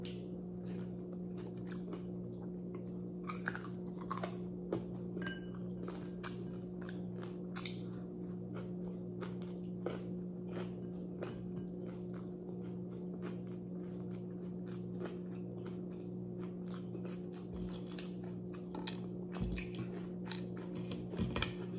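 Crispy pork belly and a radish salad with tomato and onion are chewed and bitten close to the mic, giving irregular crunchy bites and wet mastication over a low steady hum. Nobody talks.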